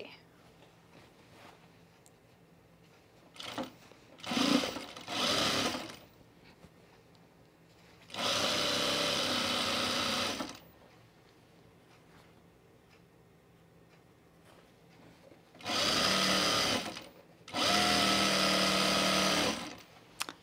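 A sewing machine pushes through thick chino pants fabric in three separate loud bursts, with quieter stretches and a voice talking between runs.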